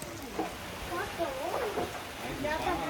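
Rain falls outdoors over rice fields in a steady, soft hiss while someone talks over it.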